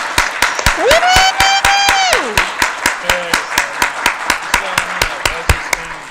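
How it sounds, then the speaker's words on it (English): Steady applause and clapping from an audience at a regular city council meeting, loud and continuous with sharp rhythmic claps throughout, while a voice rises over it, including a long held vocal tone early on. "Can we give him a round of applause?"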